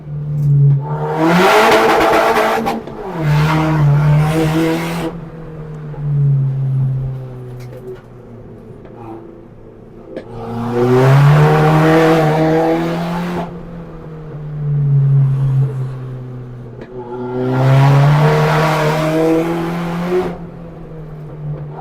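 A Mitsubishi Colt Ralliart Evo rally car with a big turbo accelerating hard on a road, three loud revving pulls with shifts between them, the engine dropping back between bursts.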